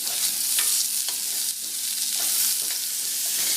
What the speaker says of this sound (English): Just continue on moving it so it won't get stuck on the bottom, all the rice.